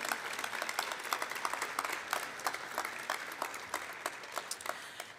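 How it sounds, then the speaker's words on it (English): An audience at a hockey championships announcement gives a round of applause for two host-city representatives, with moderate, steady clapping and distinct individual claps standing out. "Can we have a nice round of applause for both these men"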